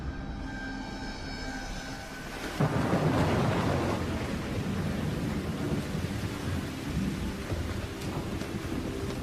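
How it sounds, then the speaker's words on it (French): Steady rain pours down while a deep, heavy roll of thunder swells in and rumbles on, dense and loud across the whole stretch. "La pluie qui s'abat sur la planète en la transformant devrait également nous refroidir."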